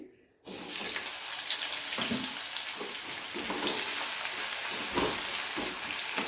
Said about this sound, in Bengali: তো ভালো করে নেড়ে নেওয়ার পরে এর মধ্যে দিয়ে দেবো পেঁয়াজ কুচি।